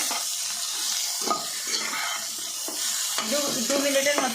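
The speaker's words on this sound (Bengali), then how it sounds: "এবার আমি এটা এখানে ভালো করে নেড়ে 2 মিনিটের মতো" Okra and turmeric are stirred in a hot pan, with a steady close sizzle and repeated scraping strokes of the spoon.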